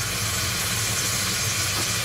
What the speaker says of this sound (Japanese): この特製焼肉のタレを鍋肌にジュワーと